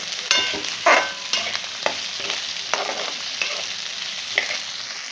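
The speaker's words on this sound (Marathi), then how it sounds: "वाटाणा आणि बटाटा आणि कांदा हे तिन्ही मिक्स आपण छान परतून घ्यायचे" Peas, potato and onion sauté in a pan for oats upma, with a steady close sizzle broken by several sharp spatula scrapes and stirs at irregular intervals; no one speaks.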